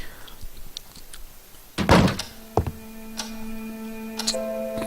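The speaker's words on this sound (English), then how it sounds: "the key unlocked the front door" A key turns in the lock of a front door in the horror adventure game Scratches: a loud burst of mechanical clatter, a sharp thunk, then a sustained eerie tonal hum and faint ticks as the door swings open.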